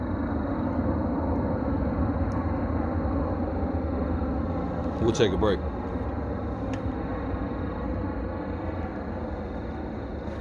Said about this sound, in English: There's a jet coming over.